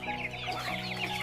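A flock of native Thai yellow-feathered, white-tailed free-range chickens, with giant and small birds mixed together, clucking and calling continuously in a short close burst.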